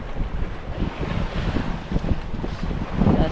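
Strong wind buffets the microphone over open water on a longline fishing trip, with gusty roaring and low rumble, loud and constant, no voices.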